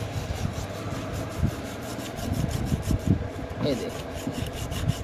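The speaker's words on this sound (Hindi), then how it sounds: "अब रिंग के अंदर हम थोड़ा सा रेगमाल मारेंगे" Sandpaper rubs lightly inside the bearing ring of a ceiling fan under repair, giving a soft, uneven rasping scrape in short strokes, close up, with a voice speaking briefly over it.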